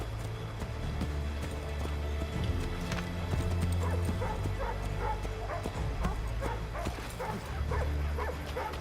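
Horse galloping in Assassin's Creed 3, rapid rhythmic hoofbeats pounding steadily over a low rumbling game backdrop, with faint barking-like sounds mixed in.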